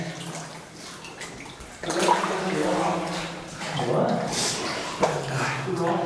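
Wading through thigh-deep water in the flooded Scranton mine, with slow, heavy sloshing and splashing surges as legs push forward, echoing nearby, while a person talks intermittently.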